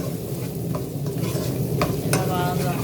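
Masala being stirred into a jackfruit curry in a hot pan gives a constant close sizzle, with scraping strokes of the spoon and a few clinks against the pan, and no voices.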